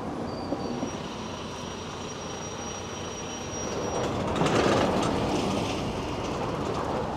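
A train rolls along the railway in Edinburgh, a steady broadband rumble that swells louder as it passes close by, with faint wheel squeal and a thin high tone earlier on.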